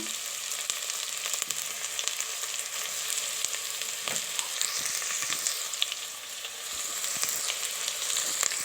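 Mutton pieces with coriander leaves and salt frying in a pan, a dense, bright sizzle running steadily throughout, with occasional light ladle taps and scrapes and no talking.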